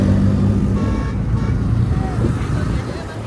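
A car on a road on the way to a hike at Visapur Fort: steady, loud engine and road rumble with wind noise filling the whole clip, a brief tonal whine midway, and voices under it.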